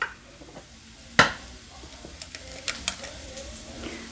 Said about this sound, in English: And right now my onions are currently sizzling in the back.